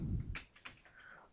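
Quick bursts of keystrokes on a computer keyboard, a few close, sharp taps in a short flurry over a low rumble.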